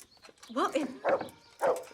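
A dog in the video game Kingdom Come: Deliverance barks three times, short, loud, fairly close yaps spaced about half a second apart.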